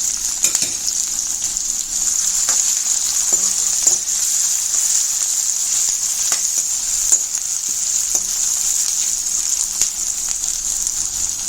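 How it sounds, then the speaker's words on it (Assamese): Loud, steady sizzle of onions frying in a pan with ginger-garlic paste, a continuous bright hiss with occasional pops and stirring scrapes. "পিঁয়াজখিনি ৰঙচুৱা পোৱালৈকে মই ভাজি থাকিম ইয়াত।"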